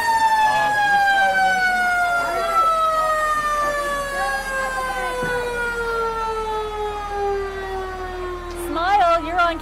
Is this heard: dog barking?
no